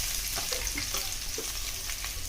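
Small diced potatoes fry in hot oil in a pan for sabudana khichdi, giving a steady close sizzle with soft stirring scrapes from a ladle. No voices are heard.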